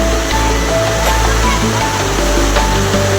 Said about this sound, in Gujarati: કેટલો બધો વરસાદ આવે છે.